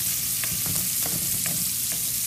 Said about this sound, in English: I'm going to cook them right there in this bacon grease up till the onions kind of start to get a little clear